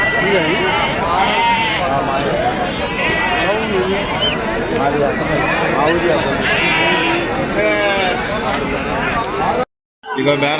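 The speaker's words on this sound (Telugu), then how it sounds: "మంచి మంచి గొర్రెలు వచ్చినాయి చూడొచ్చు" Many sheep bleat loudly and continuously at a weekly livestock market, a dense overlapping chorus with voices murmuring underneath, then a brief cutout at the very end.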